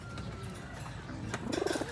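Racing pigeons back at the loft after a derby race coo softly, a low rising and falling burble building toward the end amid steady background noise.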